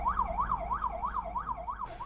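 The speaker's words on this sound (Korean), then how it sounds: "이제 사이렌을 켜고 가고 있었는데" An ambulance siren wails up and down in a steady, rapid rhythm, heard from inside the emergency vehicle as it drives, clear and continuous with road noise underneath.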